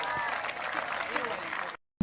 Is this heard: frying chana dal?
no